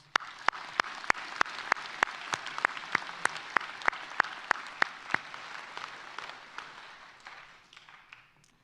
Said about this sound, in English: Please, a round of applause for your loved ones.